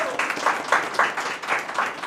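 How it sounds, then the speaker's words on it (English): A live comedy game show audience claps for the crew, a brief, full burst of steady applause from many hands, with a rhythmic pulse running through the crowd sound. "Let's have a round of applause for our crew as well here."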